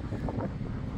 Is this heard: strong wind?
yes